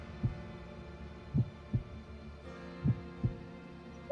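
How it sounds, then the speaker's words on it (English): A heartbeat sound effect from the video game Fire Emblem: Three Houses thumps in low doubled beats, about two pairs over four seconds, soft and steady over a faint background hum. "there's the heartbeat"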